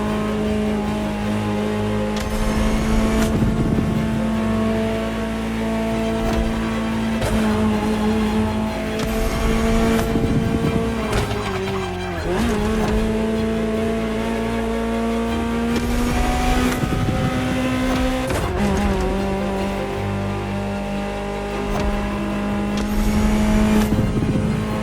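Ferrari supercar in The Crew Motorfest, engine droning loudly and steadily throughout, with repeated rev rises and gear-shift dips, a brief lift around the middle, and occasional tire noise.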